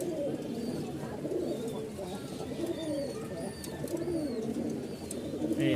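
Several Giribaj and Lakkha pigeons coo steadily and close by in low, overlapping rolls, with faint chirps above the cooing throughout.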